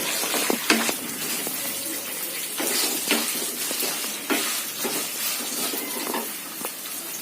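Spices and dried red chillies fry and sizzle in oil for a tempering, with intermittent scraping and stirring clicks from a spoon in the pan, close and fairly loud.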